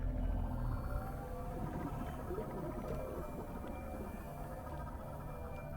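A deep, continuous droning rumble with eerie, warbling tones drifting over it from floating rock creatures in the video game Subnautica, steady and unbroken for the whole stretch, with no voices.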